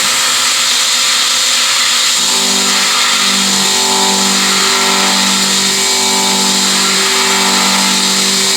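A milling machine cuts the center of a machined cup, taking an eighth-inch-deep pass at full speed, a steady loud whirring drone with sustained tonal harmonics that rise and waver, alone without voices.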